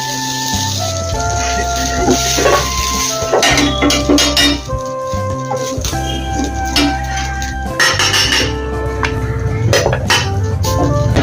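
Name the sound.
cooking pot being set down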